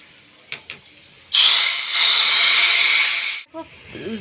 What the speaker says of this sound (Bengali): এই যে ফোড়ন সব রেডি এখন খিচুড়ির মধ্যে আমি ঢেলে দেবো